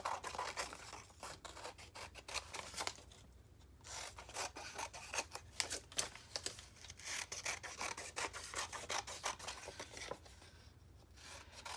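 Scissors or a blade cut out binder pages for a 5-ring binder, giving a continuous close rasping, rubbing paper noise with short scraping strokes and brief pauses, fairly quiet and alone.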